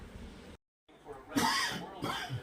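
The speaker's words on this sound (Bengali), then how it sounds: "খুব কাশি হয়েছে" A man coughs a few times, fairly faint and harsh, against a low indoor background.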